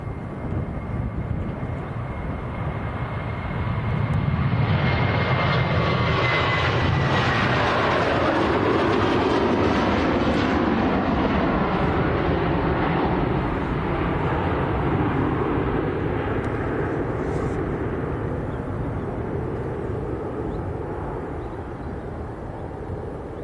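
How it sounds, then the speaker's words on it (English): An Aer Lingus jet at Manchester Airport roars loudly nearby, its broad engine rumble swelling then slowly fading as it passes, with no talk over it. "Aer Lingus in the old livery."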